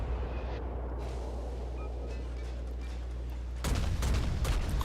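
Warship guns in a naval video game open fire on the aircraft carrier Langley, a dense burst of booming shots erupting suddenly after a low steady rumble and continuing loud to the end.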